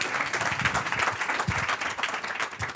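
Dense, continuous applause from a seated audience at a startup pitch session, many hands clapping steadily at a moderate level with no voices standing out.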